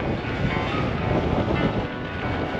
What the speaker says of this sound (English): Wind is here.